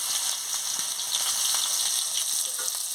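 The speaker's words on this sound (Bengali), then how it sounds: "ভালো করে ভেজে নিই রসুনটা আর লঙ্কাটা" Garlic paste and chili fry hard in a hot pan, a loud, steady sizzle with faint scrapes of stirring and no voices.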